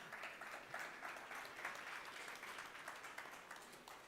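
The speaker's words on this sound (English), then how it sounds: "Please give an applause for Touchview." Audience applause at a startup summit finalists' session, a sustained, moderately distant patter of many hands clapping that stays level for the whole stretch, with no speech over it.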